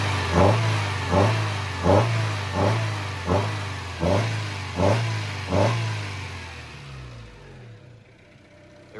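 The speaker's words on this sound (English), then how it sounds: "because the engine purrs really well." A 1994 Honda Civic VX hatchback engine, rescued from a wrecking yard and suspected of an exhaust restriction, runs steadily near the microphone with a low hum and about eight rhythmic surges as it is revved, then settles down.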